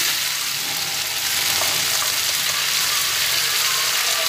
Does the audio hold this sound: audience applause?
no